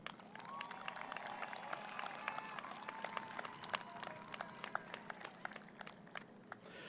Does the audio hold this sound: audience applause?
yes